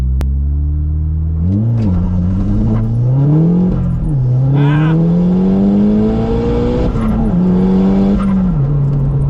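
A 2008 Seat Leon Cupra K1 with a Stage 2 tune launching hard in a 0-60 run, the engine climbing through the revs with brief dips at gear changes, loud and close from inside the car, no talking.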